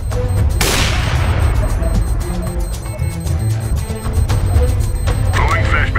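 Gunfire in the video game CS:GO: a sharp loud shot followed by a rapid burst of automatic fire and scattered further shots, with game effects and voices mixed in.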